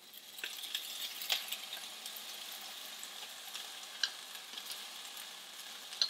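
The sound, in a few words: meat crumbles with crushed roasted garlic tomatoes cooking in pan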